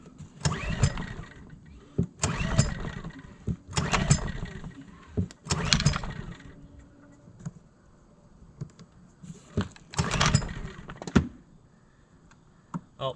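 A side-by-side utility vehicle's engine being started by pull cord: several rough, forceful bursts of cranking and rattling at irregular intervals, each dying away, with quieter gaps between.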